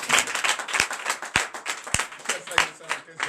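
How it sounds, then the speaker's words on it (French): Church congregation at a Sunday service in Benin applauding, clapping in a loose rhythm with sharp accented beats, with voices mixed in. "je vous demande d'applaudir"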